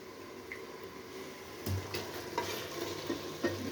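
Cooked mutton being stirred into biryani masala in a pan, a soft steady sizzle with a few scraping stirs and light clinks, close by and fairly quiet, with no talking.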